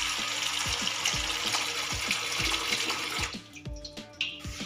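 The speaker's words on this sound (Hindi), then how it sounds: "पानी डाल देंगे।" Water pours steadily into a bucket in a home kitchen with a continuous splashing rush, along with soft rhythmic knocks. The flow thins out toward the end.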